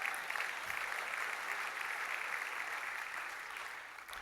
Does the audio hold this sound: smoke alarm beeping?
no